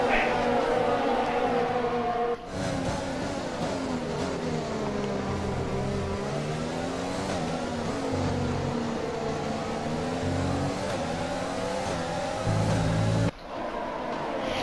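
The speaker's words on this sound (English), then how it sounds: "A lovely sounding Honda engine in this one." A Honda Formula 1 engine in the F1 2020 racing game revs in long rising and falling high-pitched sweeps, loud and continuous with brief gear-shift dips; a commentator's voice runs over it.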